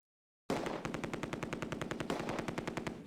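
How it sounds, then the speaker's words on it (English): Sustained rapid machine-gun fire rattles in a war video game set in Oosterbeek during Operation Market Garden, with steady bursts of evenly spaced shots and a brief renewed surge near the end. "The Germans are still firing, but have abandoned the assault."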